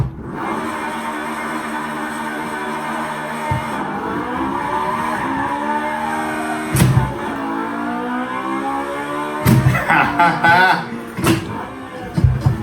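A J's Racing Honda S2000 pushes hard along a mountain pass road, its high engine revving and shifting through gears while tires squeal in several sharp bursts, with voices talking over it.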